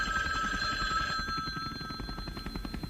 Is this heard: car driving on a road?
no